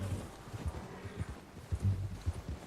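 Horse hooves clip-clopping in Red Dead Redemption 2, a soft irregular series of muffled thuds at a walking pace over quiet ambient background, fairly faint and without talk.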